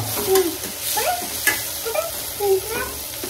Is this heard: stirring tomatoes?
yes